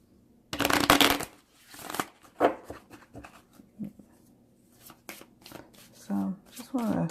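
A standard-size tarot deck being shuffled by hand, a dense riffling burst followed by softer card slides and taps, close up, with a voice speaking briefly near the end.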